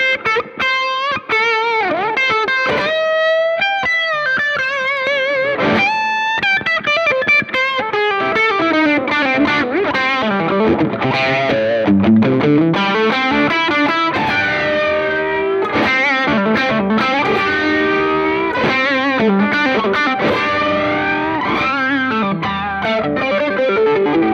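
Distorted electric guitar plays notes and bends through a Sonicake Warped Dimension modulation pedal, giving a swirling, warbling tone; no voices.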